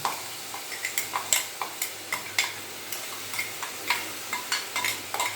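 Vegetables for cutlets frying in a pan, with a soft sizzle under a run of regular sharp clicks and scrapes from stirring, close by and without speech.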